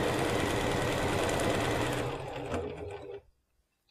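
A sewing machine stitches quilt pieces together, running in a loud, steady close whir that slows and stops just before the end.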